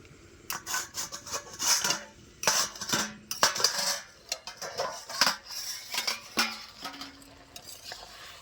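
Metal clanks and scrapes as a lid comes off a pot of boiling ridge gourd peels in a village kitchen, followed by a burst of clattering utensil knocks and stirring noises. The sounds are close and irregular, with no voices.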